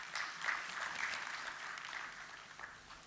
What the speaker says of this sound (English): can we start our day with a huge round of applause?